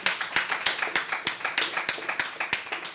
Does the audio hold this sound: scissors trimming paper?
no